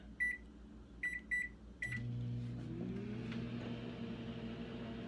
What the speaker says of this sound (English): Now I'm gonna microwave it again for another 3 minutes.